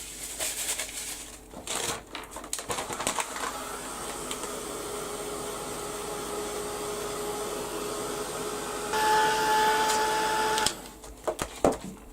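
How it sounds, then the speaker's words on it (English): A heat gun blows a steady, fairly loud whooshing airflow for several seconds, rising briefly in strength near the end before cutting off, with clattering handling sounds around it. "I'm going to give a quick blast to the heat gun."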